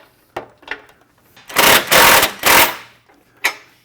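A power tool rattles out three loud, close bursts of rapid hammering while loosening a bolt on a Jeep Wrangler JL Unlimited front bumper, with a few softer clicks before and a lone short burst after.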